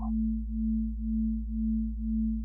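Two sine tones a couple of hertz apart from a VCV Rack modular synth patch, blending into one steady low hum that swells and dips about twice per second, clean and alone with no other sound.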